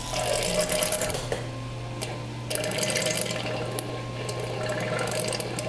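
Homebrew equipment for a hefeweizen brew day rinsed with water, a steady running, splashing stream with a constant hum beneath and a few clinks.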